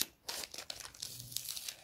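Tearing open a well-wrapped delivery package, several quick close rips and crinkles of packing material in bursts, with short pauses between pulls.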